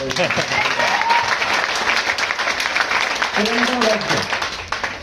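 An audience at a network marketing seminar claps in a sustained burst of applause for several seconds while a voice speaks over the crowd.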